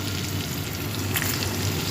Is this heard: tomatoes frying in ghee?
yes